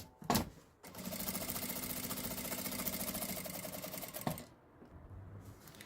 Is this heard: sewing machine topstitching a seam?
yes